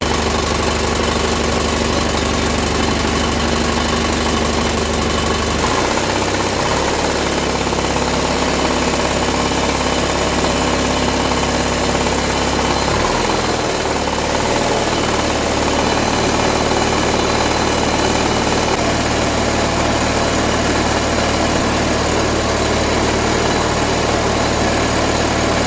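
A 1975 John Deere 400 garden tractor engine cranks and starts, then settles into a steady, loud, close idle that runs on throughout.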